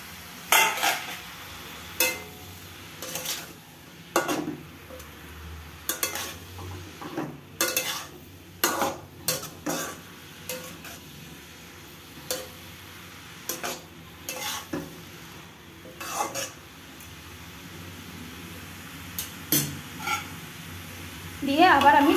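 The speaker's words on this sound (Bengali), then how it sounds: "এবার আমি ঢাকনাটা খুলে আরেকটু নেড়ে ছেড়ে দেব।" A pot of curry is stirred after its lid comes off, with a spoon scraping and clinking against the pot in irregular bursts over a soft simmer and light sizzle.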